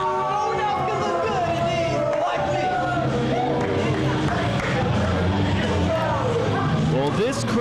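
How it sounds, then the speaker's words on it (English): A wrestling arena crowd jeers at a wrestler entering the ring, a dense continuous roar of many voices with shouts and whistles rising over a steady babble. "this crowd voices its displeasure for the cocky, arrogant musclehead entering the ring right now"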